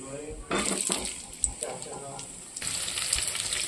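Potato pieces are dropped one by one into hot oil in a kadai already tempered with cumin seeds and bay leaf, each addition flaring into a close, hissing sizzle with brief scraping in between.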